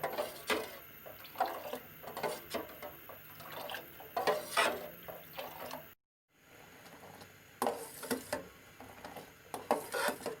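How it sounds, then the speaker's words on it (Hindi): Kashmiri kahwa being whisked steadily in a pot for several minutes, a busy run of liquid sloshing and utensil clatter with a brief gap midway, moderately quiet and with no talking. "और मसलसल इस तरह इसको फेंटेंगे तकरीबन 10 मिनट"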